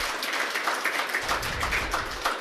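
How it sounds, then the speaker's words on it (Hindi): An audience at a Jain religious gathering bursts into applause to honour a donor family, a brief, even patter of many hands clapping from a distance without pause. "इनके लिए तालियों के गड़गड़ाहट से आप स्वागत करिएगा प्लीज"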